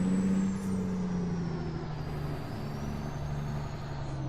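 Kenworth K100 cab-over truck in American Truck Simulator, its engine a steady low drone throughout, with a brief air-brake hiss near the start.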